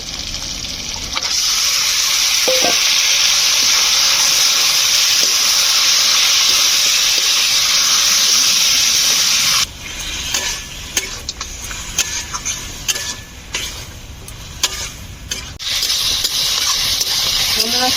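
Duck meat fries with chili paste and a spice mixture in a pan for a Bengali duck curry. A loud, steady hiss of sizzling runs for several seconds, then drops to a lower crackle broken by clattering stirs.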